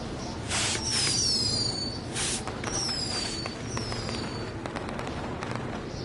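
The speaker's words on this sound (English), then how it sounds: "we'll get to see some cool fireworks" Fireworks burst and whistle in the WWE 2K20 video game, with rising squeals and crackling pops over a dense, loud game background, several blasts in quick succession.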